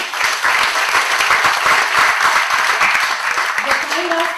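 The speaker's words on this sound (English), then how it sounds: "So big round of applause for him." Loud, close audience applause for a visiting professor at an expert talk, a dense continuous clatter of hands that fades slightly as a voice begins near the end.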